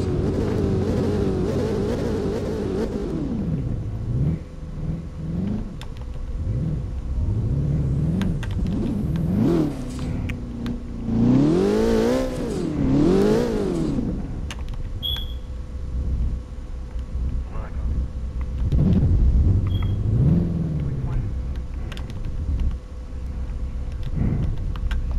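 A Porsche engine revving hard and climbing through the gears to about 232 at top speed, rising and falling whine with sharp pitch sweeps at each shift, sustained loud roar over road rumble, no speech.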